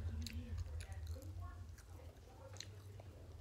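Close, soft chewing and biting of a Wendy's fast-food meal with tomato in it, wet squishy mouth sounds repeating steadily for a few seconds under a low background hum.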